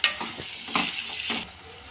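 Prawns being stirred in a curry pan for an Andhra-style prawn egg curry, with a few close scraping strokes over a soft, steady sizzle and no talking.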